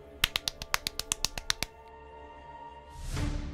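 About a dozen sharp claps in quick, even succession, then a pause before a louder rushing swell of noise.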